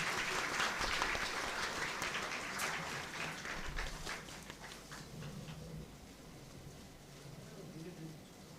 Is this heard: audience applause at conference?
yes